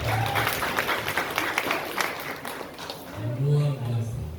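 A church congregation applauding, a burst of clapping from many hands that fades in and out while someone speaks over it.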